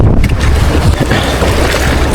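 Strong wind roars loud and unbroken against a small fishing boat out at sea, a dense, buffeting rush that fills the whole moment with no voices.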